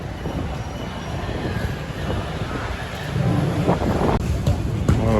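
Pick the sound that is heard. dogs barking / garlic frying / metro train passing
metro train passing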